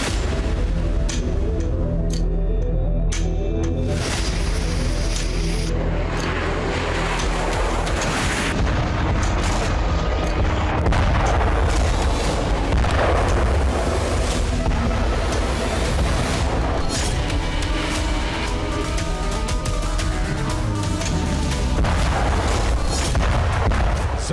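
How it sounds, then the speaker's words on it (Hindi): Repeated heavy explosions and artillery blasts boom one after another across a long stretch, loud and rumbling, with sharp cracks and crackling debris between the deep bursts and no talking. "जोरदार धमाके के साथ आसमान में उठता बारूदी ज्वाला का ये गुबार"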